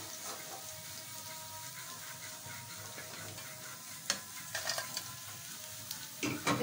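Fish frying in hot oil for a fish fry, a steady crackling sizzle throughout, with a few sharper spatters and clinks near the end.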